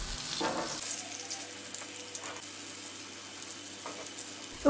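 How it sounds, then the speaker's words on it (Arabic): Eggplant frying in hot oil gives off a steady, soft crackling sizzle with a few louder bursts of bubbling. It is fairly quiet and close, with no talking. "وبزيت حامي رح نقلي هلا الباذنجانات"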